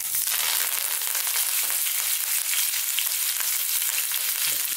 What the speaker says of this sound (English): we're going to drop in our curry leaves